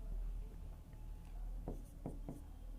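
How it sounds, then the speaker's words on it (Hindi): A pen scratches on paper while a maths problem is worked out by hand, a few short, crisp strokes close by over a low steady background hum. "मैं यहाँ लिखता हूँ"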